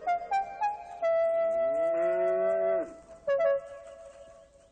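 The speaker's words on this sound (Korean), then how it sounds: "블루벨은 송아지를 다시 만난 다음에야 안심한 듯 선로에서 내려갔어요" A cow and her calf on a railway line moo in turn, several short lowing calls and one long drawn-out moo, close and clear with no other sounds.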